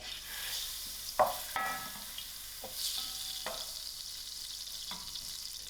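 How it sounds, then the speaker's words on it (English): Oil and margarine sizzle and fry steadily in a heated pot, a soft broad hiss with a few sharp clinks and stirring knocks, no voices. "Now that my pot is heated, I'm going to add in my oil. And also add in my margarine."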